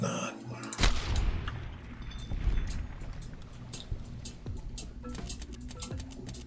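Suppressed pistol shots in the Fallout TTW game, a sharp thump followed by a few softer muffled pops against steady ambient noise.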